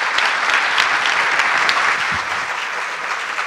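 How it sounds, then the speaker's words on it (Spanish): An audience at a sustainability panel discussion during a conference applauds the panelists, a dense sustained round of clapping filling the room, loud and even, fading slightly near the end. "Un aplauso para nuestros panelistas."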